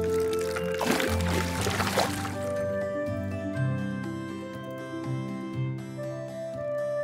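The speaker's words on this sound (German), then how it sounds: "Lasst uns das Wasser von einem Becher in den anderen füllen." In a children's cartoon, water is poured from one cup into another, a splashy gurgling burst lasting a couple of seconds over light tonal background music that continues after the pour.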